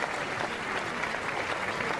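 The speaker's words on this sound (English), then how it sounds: "And Ryan Moore now, and a huge cheer as well for him." A crowd at Ascot racecourse applauds the winning jockey after the Gold Cup, dense steady clapping heard from a distance and filling the whole short stretch without a break.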